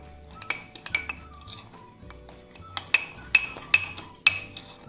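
A spoon clinks against a mug while mixing mug cake batter with baking soda and salt, a series of sharp, close metallic taps at an irregular pace over quiet background.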